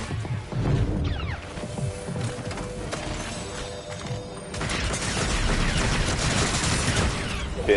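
Rapid SMG gunfire in the battle royale shooter Fortnite, a dense continuous rattle of shots mixed with game noise, growing louder and busier in the second half.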